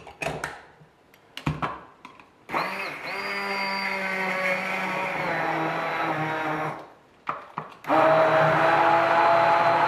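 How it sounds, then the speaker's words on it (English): A countertop or immersion blender whirs as it purees an Italian soup of mixed beans, chickpeas and lentils, running in two long loud bursts with short pauses between them, close and steady, with no voices. "You can do this in a regular blender, with an immersion blender, it doesn't really matter."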